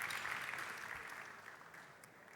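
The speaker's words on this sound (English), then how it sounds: "Big applause for Adrian again." An audience at a Formnext pitch event on additive manufacturing claps for a presenter, a soft, steady round of applause that slowly fades over a couple of seconds.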